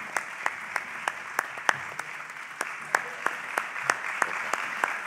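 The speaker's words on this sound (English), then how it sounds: "would you please give them a big round of applause for me" Graduation ceremony audience gives a round of applause: steady, moderately distant clapping from a large crowd, with a few sharp, prominent claps standing out at a fairly even rhythm.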